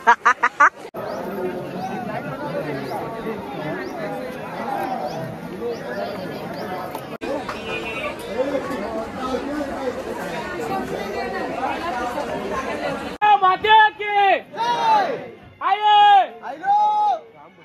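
A large crowd of pilgrims at Ekvira Aai temple chatters in a continuous murmuring babble, with nearby voices talking over it and sharper shouts near the end.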